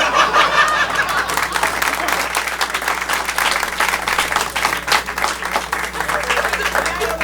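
Audience applause at a live comedy show, a dense steady wash of clapping mixed with scattered chuckles and crowd noise, loud and close for the whole stretch.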